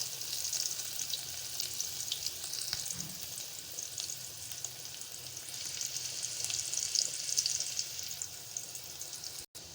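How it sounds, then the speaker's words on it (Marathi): Finely chopped onion fries in hot oil seasoned with asafoetida, making a continuous close sizzle with light stirring for a Malvani-style mutton dish, and no voices. "आता मी बारीक चिरून घेतलेला कांदा फोडणीला घालत आहे"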